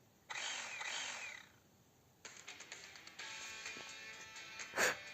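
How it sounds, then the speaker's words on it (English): A chainsaw in the Arknights video game pulls and sputters to life, a short loud burst followed by a steady, ragged running drone with a sharp spike near the end. "Brother just started a chainsaw."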